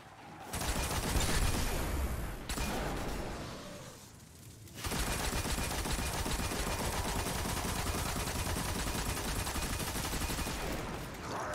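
Iron Banner auto rifle in a video game, firing dense sustained automatic bursts, a brief lull in the middle, then a long continuous stream of rapid shots, somewhat muffled and steady in level.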